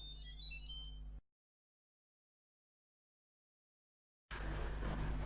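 An Instant Pot pressure cooker's lid chime plays a short series of bright electronic tones, followed by a long silence and then a burst of broadband noise.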